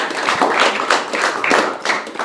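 Classmates in a classroom clap briefly, a close, uneven patter of hand claps with several sharp accents, and no talking over it.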